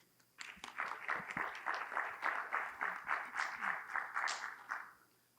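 An audience at a North Hempstead, New York town forum bursts into applause, with a sustained, moderately distant clapping that rises quickly, holds for several seconds and then fades out.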